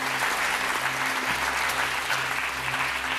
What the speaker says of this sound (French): Tiffany sportivement applaudit